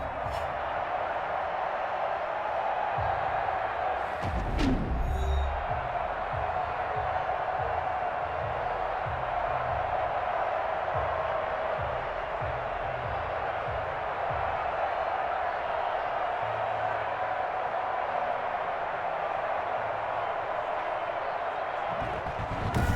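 Steady crowd roar fills a stadium during a simulated New York Jets vs Buffalo Bills game in Madden NFL 21, a constant wash of distant voices holding through the whole stretch with a few brief louder bursts early on.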